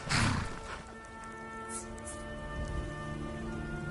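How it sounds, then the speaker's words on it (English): Steady rain falls in the video game Skyrim, a continuous close hiss of drops with a soft, sustained tonal layer of music underneath and no speech. "This rain will stop eventually. Always does."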